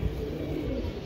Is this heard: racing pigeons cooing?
yes